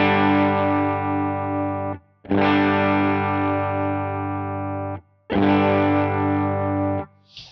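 Overdriven electric guitar through a Super Reverb amp model on a Line 6 HX Stomp, with bias pushed up for compressed breakup: three long sustained distorted chords, each ringing about two seconds before cutting off, loud and alone.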